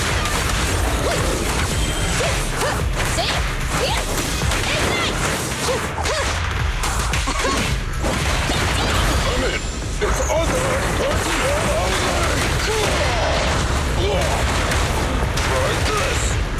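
Rapid gunfire and whooshing combat effects from the Zenless Zone Zero video game, dense and loud throughout, mixed with music and character voice lines.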